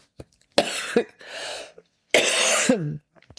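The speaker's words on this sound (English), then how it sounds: "I can stop coughing" A few harsh, close coughs in separate bursts, followed by a raspy breath, with quiet gaps between them.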